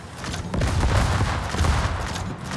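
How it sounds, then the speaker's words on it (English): Heavy main battery gunfire from the German cruiser Prinz Adalbert in the naval video game World of Warships, a dense, continuous rumbling barrage of booming shots that stays loud throughout, with no voices. "And here comes the main battery."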